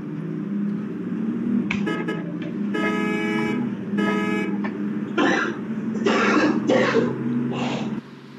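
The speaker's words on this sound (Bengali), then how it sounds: "আমাদের বাস এই যে ভাই রাস্তা দিয়ে টোট করে চলতেছে" A bus horn toots several times in Euro Truck Simulator 2, with short repeated honks followed by longer blasts over a steady engine drone.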